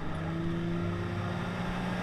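Falcon 205 bass boat with a 250 SHO outboard engine running, a steady, moderately loud engine drone with a low hum and no speech over it.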